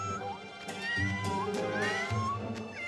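Cartoon Siamese cat meowing in an animated series, a few short, clear mews rising over background music, fairly close and prominent.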